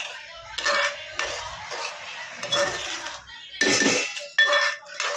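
A spoon stirs carrot halwa in a pot, with repeated scraping and clinking of metal on the pan. Bursts come in an uneven rhythm, close and fairly loud, without talk.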